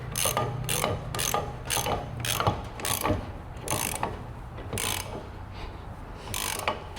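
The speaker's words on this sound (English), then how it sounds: "You can always come to the other side of the wrench and push like he was." Ratchet wrench cranking on a Peterbilt truck during AC and heater work, a steady series of quick, close clicking bursts repeating in rhythm throughout with no talking.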